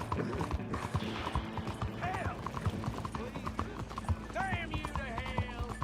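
Horse hooves clip-clop in steady, close rhythm in the online western game Red Dead Online, with game music and a brief whinny-like pitched sound over it while a person talks throughout.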